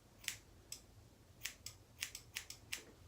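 Scissors snipping a Havanese dog's hair during grooming, a string of about eight crisp close-up snips at irregular intervals against a quiet room with no talk.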